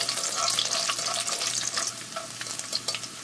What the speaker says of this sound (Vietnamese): Kế đến mình cho tỏi tép vào mình chiên sơ luôn.